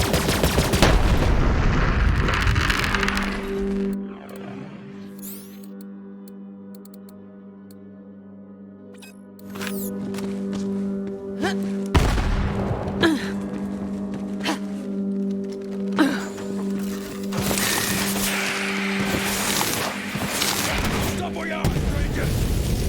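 Bursts of gunfire and explosions erupt in the Borderlands 3 Bounty of Blood campaign, loud and close, easing into a lull of droning tones before heavy shooting and booms return, with voices mixed in.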